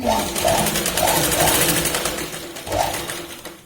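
Domestic sewing machine running a final line of stitching on a katori blouse, a steady continuous whir with faint rhythmic pulsing that dips briefly near the end, close and alone without talk.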